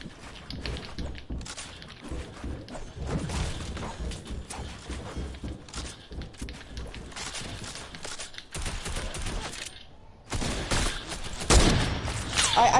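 Gunfire in an online shooter video game: a long run of sharp shots and thumps, some in rapid bursts, with a short lull near the end before louder blasts return.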